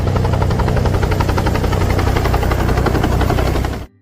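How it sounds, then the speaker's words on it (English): A helicopter losing control over a beach gives a loud, continuous rotor chop with a rough, pulsing roar that runs steadily and then cuts off abruptly at the end. "A helicopter crashes on the beach after the pilot loses control."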